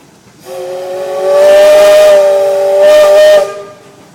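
A 1904 Gar Scott 22 hp steam engine at a steam engine show sounds its whistle in one long, loud, steady blast with a breathy hiss, swelling stronger midway before cutting off.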